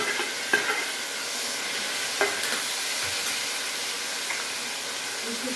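Tomato dropped into a hot oil tempering for an alasande (black-eyed pea) stir-fry, sizzling and hissing steadily throughout, with a few brief louder crackles and stirring clatters near the start and middle, close and fairly quiet.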